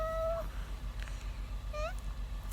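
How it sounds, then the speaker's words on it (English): A house cat lets out two short, close meows about a second apart, over a low indoor hum. "Shh, kitty, no meowing, okay?"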